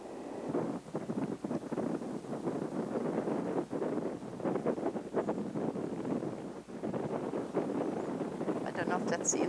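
Wind blowing outdoors in gusty, rustling waves, moderately loud and continuous, with the bluster rising and easing repeatedly over several seconds.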